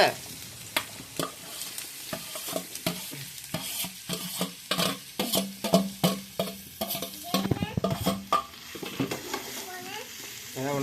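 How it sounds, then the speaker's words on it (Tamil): Chopped ginger fries in hot oil for pickle, a loud sizzle broken by rapid, uneven clattering stirs and scrapes against the pan, close up. "எண்ணெய் சூடாயிடுச்சு. இந்த இஞ்சியை நல்லா கொட்டிக்கலாம்."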